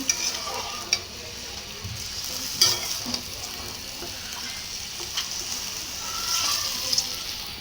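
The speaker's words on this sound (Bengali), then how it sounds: "তো আমি এগুলাকে হচ্ছে একটু নাড়াচাড়া করে দিব এগুলাকে একটু কষানো লাগবে ভালো করে" Pieces of beef lung frying in a pan for bhuna are stirred, with scattered scraping knocks over a steady close sizzle.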